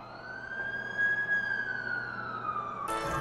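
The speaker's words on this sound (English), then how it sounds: "That's the ambulance I called." An ambulance siren in The Amazing Spider-Man 2 video game, one long wailing tone that rises and falls slowly at moderate distance over a low background rumble, with a burst of noise at the end.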